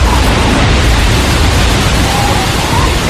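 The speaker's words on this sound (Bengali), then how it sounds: "আচমকা আবার একটা ঝড়ের ঝাপটা এসে দরজা জানলার উপর আছড়ে পড়ল," A storm gust hits doors and windows as an audio drama effect, a loud, dense, unbroken roar of wind-like noise filling the whole stretch.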